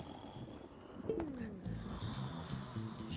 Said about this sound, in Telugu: గురక వినపడుతుంది